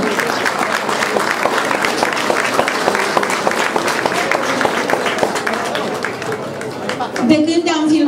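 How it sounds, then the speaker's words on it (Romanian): Audience applause for a group of children at a folk song and dance festival in Râciu, Mureș County: dense, steady clapping from a large crowd throughout, with a voice talking over it and a brief tonal sound near the end. "Uitați ce multă lume vă aplaudă."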